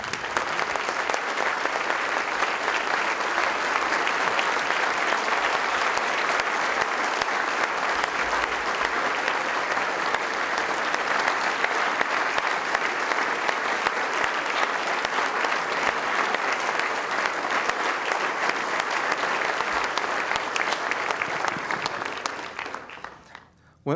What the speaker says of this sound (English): Let us all stand and give Chris a round of applause for a job well done